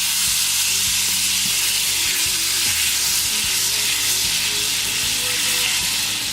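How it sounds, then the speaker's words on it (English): Butter with a splash of lemon juice sizzles and fries steadily in a hot pan, a dense, loud, continuous crackling hiss with no talk over it. "To cook with, I just add a tablespoon of butter. Let that melt."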